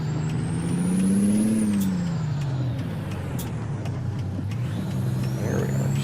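A truck in American Truck Simulator accelerates with a loud, close engine drone that climbs in pitch, drops as the gear changes, then picks up again, with a faint hiss and rattle over it.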